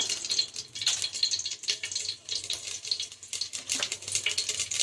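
Mustard seeds and spices hitting hot oil in a pan for Nellore-style fish curry, a dense, close crackling sizzle with rapid popping bursts throughout and no talk.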